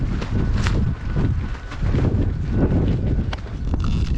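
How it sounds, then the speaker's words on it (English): Wind gusting outdoors beside a Honda Pilot, a loud, rough rumble buffeting the microphone in uneven surges, with faint scuffs and knocks over it. "it's pretty windy out here"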